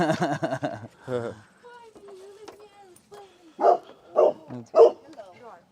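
On a family farm, a dog barks at a parked car, several sharp barks coming near the end after stretches of quieter sound, with people talking and other tonal sounds earlier.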